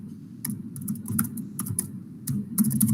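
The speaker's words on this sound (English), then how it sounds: "I'll type in nav section" Close computer keyboard typing, with irregular bursts of sharp key clicks over a low steady background rumble, pausing briefly mid-way before a denser run of keystrokes.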